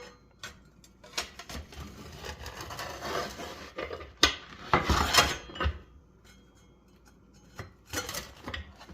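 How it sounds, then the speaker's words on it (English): Two Blackstone spatulas scraping and prying a Chicago-style stuffed pizza out of a cast iron pan, with scattered close scrapes, rubs and metallic clinks, loudest in a burst near the middle, then quieter. "I'm going to see if I can get this out of this cast iron pan."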